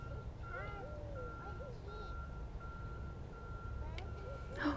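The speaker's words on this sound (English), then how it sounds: "That beeping seems to have gotten louder" Irrigation timer or controller in a home garden sounding a steady, repeated high electronic beep, fairly faint against outdoor background noise, with occasional bird chirps and a brief clatter near the end.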